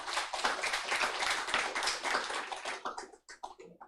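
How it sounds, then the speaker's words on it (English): A lecture audience applauds to welcome Professor Rory Medcalf at the Australian National University, with dense, steady clapping from many hands that thins into a few scattered claps over the last second. "please give a warm round of applause to Professor Rory Medcalf"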